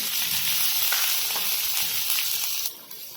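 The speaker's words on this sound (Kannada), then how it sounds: "ಅದ್ರಾಗ ಈಗ ಕರ್ಬೇವು ಚಟ್ಪಟ್ ಮಾಡ್ತೇನೆ ಮತ್ತು ಮೆಣಸಿನ್ಕಾಯಿ ಹಾಕೊಂತೇನ್ರಿ ಅದನ್ನು ಸ್ವಲ್ಪ ಫ್ರೈ ಮಾಡ್ಕೋಬೇಕು" Curry leaves and green chillies sizzle in hot oil, a loud, close, hissing crackle that holds steady before dropping off abruptly near the end.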